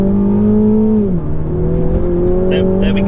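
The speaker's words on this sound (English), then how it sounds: "I'm going to come down into the manual gearbox and I'm going to accelerate away" A car in manual gearbox mode pulls away under acceleration, its engine note steady and close with a slight dip in pitch partway through, suggesting a gear change, then climbing again.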